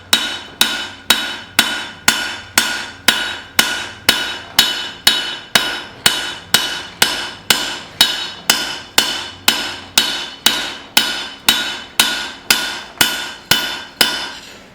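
A hammer forges a bevel on a cleaver, loud ringing metal-on-metal blows in a very steady, even rhythm, roughly two strikes per second, close and alone.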